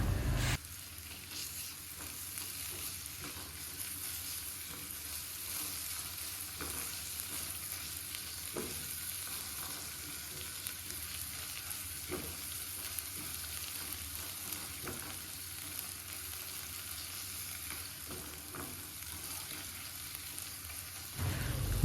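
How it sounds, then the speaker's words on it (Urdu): Ginger and garlic paste fries in a pan for dhaba-style baingan bharta, a steady close sizzle and crackle running without a break, with occasional light clicks of stirring and no talk. "ادرک اور لہسن کا پیسٹ ایڈ کرنے کے بعد اسے 2 منٹ کے لیے ہم مزید فرائی کریں گے۔"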